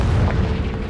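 A Confringo blasting spell goes off in the Hogwarts Legacy video game, a loud, deep, rumbling explosion that fills the whole moment and slowly settles.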